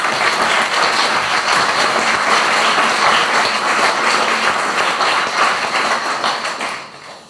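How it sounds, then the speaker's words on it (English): Close, loud applause from an audience at a language school's 25th anniversary event, dense steady clapping that fades out over the final second. "So a round of applause for Amanda, please."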